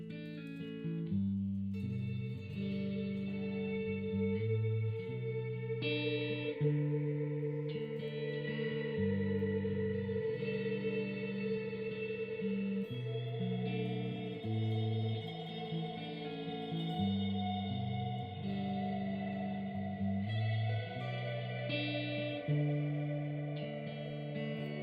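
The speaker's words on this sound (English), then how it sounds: "So whether you decide to swell it in with a volume pedal," An electric guitar plays chords that swell in through a volume pedal, with string bends under heavy reverb and echo, sustained and layered at a moderate level, with no talking.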